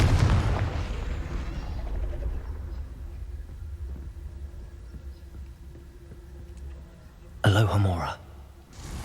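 A Confringo fire spell bursts in the video game Hogwarts Legacy, a short loud blast arriving late after a long stretch of quiet ambience and low background sound, with speech heard earlier in the stretch.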